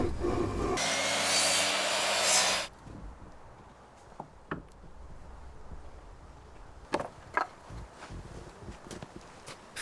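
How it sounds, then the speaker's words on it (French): A saw makes an angled cut through a wooden frame piece for a tree house build, a loud, harsh burst lasting about two seconds, followed by quiet knocks and handling noises. "Détermine la largeur du cadre et scie les pièces en biais."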